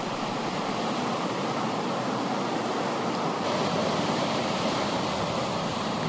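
Rough ocean surf off Christmas Island churns in a continuous, loud broadband roar of breaking waves, steady throughout with no pauses and no voices.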